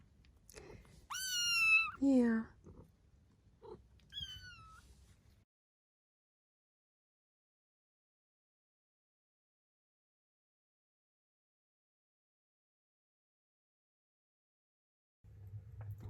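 A cat gives a few close, rising meows, then a brief word is spoken before the sound drops to near silence, with faint low rumble returning at the end.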